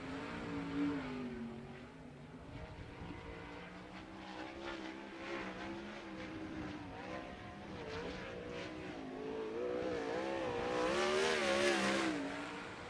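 A sprint car runs its opening qualifying lap at Fremont Speedway dirt oval, engine howling and revving in wavering pitch through the turns, rising loud and near as it passes.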